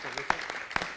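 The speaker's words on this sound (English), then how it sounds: "Give him a nice round of applause." Audience at a city council meeting breaks into a brief burst of applause, a second of close, crackling clapping with a voice-like murmur mixed in.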